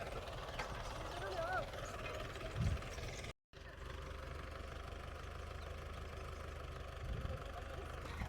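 A tractor engine idles in a steady low chug with a persistent hum, close by. A brief dropout interrupts it partway, and voices talk faintly over the engine.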